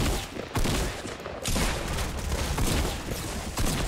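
Gunfire in the Fortnite video game: bursts of rapid shots ring out in close, loud volleys that continue almost without pause, with no voices over them.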